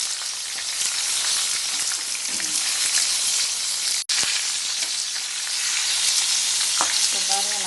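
Chicken lollipops deep-frying in hot oil give a dense, continuous sizzle and crackle. It stays close and steady, with one brief cut partway through and a few light clinks near the end.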